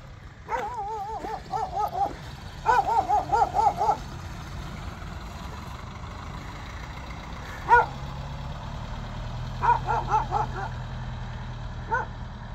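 A dog barks in bursts of several quick yips and barks beside a road being cut above a diversion dam construction site on a canal in Jaghori, with faint engine rumble in the background and no talk.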